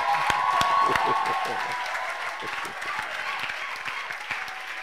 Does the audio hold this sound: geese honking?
no